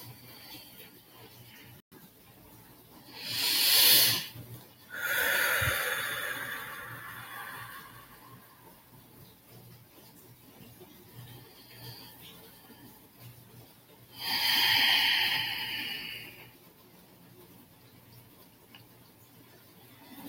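Three slow, deep breaths during a guided meditation, each a soft airy rush of a few seconds, the last after a long quiet pause, with a faint background hush between them.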